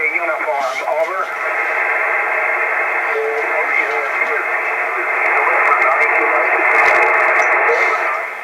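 A ham radio transmission from a Slovenian operator comes through a receiver as a narrowband, hissy voice with crackle and fading, loud and continuous over several seconds.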